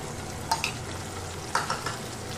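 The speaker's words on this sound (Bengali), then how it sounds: "এবার আমি এর মধ্যে টমেটো আর কাঁচা লঙ্কার যে পেস্টটা বানিয়েছি সেটা এর মধ্যে দেবো আর কষিয়ে নেব।" Tomato and green chilli paste being sautéed into a Bengali bata fish curry, with two soft stirring scrapes over a low, steady sizzle, close and fairly quiet.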